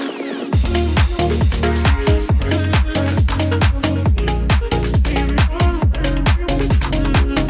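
A 90s-inspired house music track made in FL Studio plays with a steady four-on-the-floor kick, punchy bass and bright layered synths, loud and continuous throughout.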